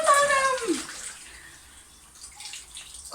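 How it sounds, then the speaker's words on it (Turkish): Water splashes and runs in a bathroom sink while a child plays and washes, with a loud splashy burst at the start that fades to quieter trickles and drips, and a voice briefly heard. "Ay, biraz da yüzümüzü yıkayalım Miloş."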